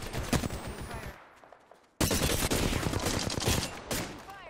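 Loud rapid automatic gunfire in the Apex Legends video game comes in dense bursts, with a brief silent gap before the shooting resumes just as hard.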